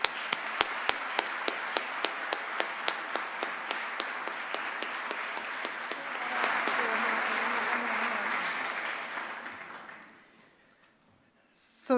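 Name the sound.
audience applause for Margot Wallström at prize ceremony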